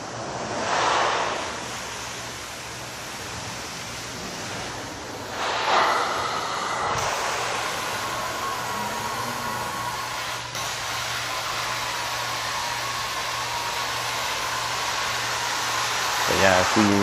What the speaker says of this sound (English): I'm going to run the bonnet pad over this, just to kind of speed that drying time up